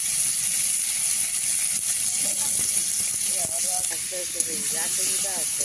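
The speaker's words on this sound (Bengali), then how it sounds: "তেল দিলে পরে তাড়াতাড়ি ভাজাটা হয়ে যাবে।" Bata fish with turmeric sizzles and hisses in hot oil, a steady close frying hiss throughout, with faint talk underneath.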